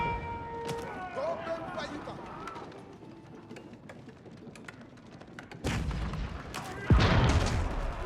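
Bombard cannons in an Age of Empires 4 match pound a tower with deep, heavy booms, two strong blasts landing near the end over a busy battlefield din, while a commentator's voice talks throughout.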